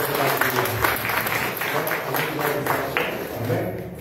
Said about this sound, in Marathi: आपण जोरात टाळ्या वाजवून